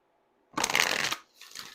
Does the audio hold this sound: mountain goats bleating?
no